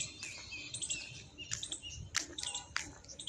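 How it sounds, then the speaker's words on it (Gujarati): Several birds chirp and tweet in short, quick bursts in the morning, fairly close, over a quiet rustling outdoor background with no talking. "પક્ષીઓનો અવાજ સાંભળો તમે"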